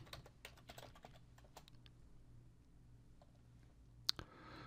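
A password is typed on a computer keyboard in quiet bursts of soft key clicks, with a louder click near the end, faint and close against a low background hum.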